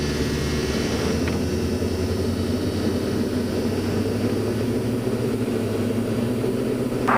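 A Diamond DA40 NG light aircraft's engine drones loudly and steadily from inside the cockpit as the plane takes the runway for departure, a constant close hum with a slight rise at the very end.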